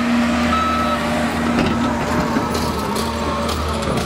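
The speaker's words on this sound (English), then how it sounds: "that's that noisy old blinking truck backing down here" Repeated reversing beeps sound from an old, noisy truck backing down beside an allotment, steady pulses over a loud, continuous engine rumble.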